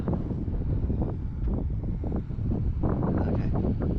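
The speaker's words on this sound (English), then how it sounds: "Oh man, that wind." Strong wind buffets the microphone at an RC flying field, a loud, continuous low rumble with gusting surges and no talk.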